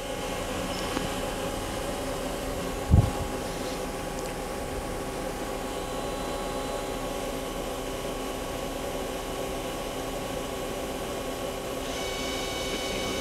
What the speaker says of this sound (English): Now we're going to run the live tool.